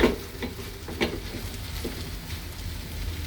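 Shallots, chili and dried shrimp fry in a pan until dry, a faint steady sizzle with several soft stirring scrapes and taps scattered throughout.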